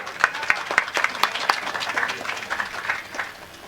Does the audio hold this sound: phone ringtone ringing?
no